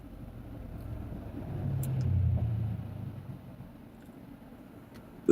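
Cars drive past at night, a low road rumble that swells as one passes close around the middle and then fades back to a steady distant hum.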